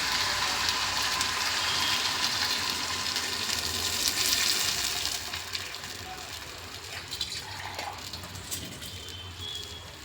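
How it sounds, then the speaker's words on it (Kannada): Water poured into a hot pan of upma with semolina, hissing and sizzling in a loud, steady rush that eases after about five seconds into a quieter simmering crackle. "ನೀರು ಹಾಕ್ಕೊಳ್ಳೋಣ ಫ್ರೆಂಡ್ಸ್."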